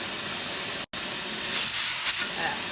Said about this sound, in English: we've been steaming for 10 minutes